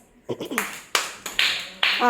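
Children clap during a classroom activity, with several quick, sharp bursts of clapping spread across a couple of seconds, heard close and fairly loud.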